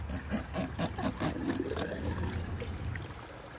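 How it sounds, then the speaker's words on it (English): Water pours and gushes steadily out of a cut-open Intex above-ground pool, a faint continuous rushing trickle heard alone that eases slightly toward the end. "You hear that water gushing out."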